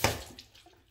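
Water splashes against skin as a face is rinsed during a skincare routine, a brief close wet burst at the start that fades into faint drips.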